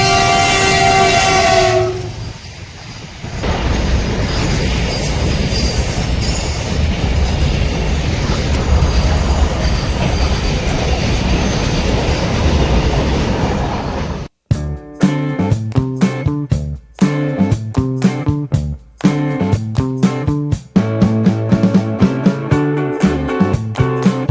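A train roars past a closed level crossing at close range with a sustained rumble, then rhythmic clickety-clack of wheels over the rails, loud throughout.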